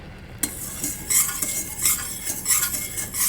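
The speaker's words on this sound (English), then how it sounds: "So you're just gonna continue to stir it." A spoon stirring a thick chocolate mixture in a pot as it starts to boil, with soft repeated scraping strokes in a steady rhythm, close by and fairly quiet.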